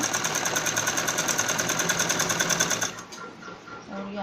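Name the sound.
sewing machine stitching a straight seam on a kids' romper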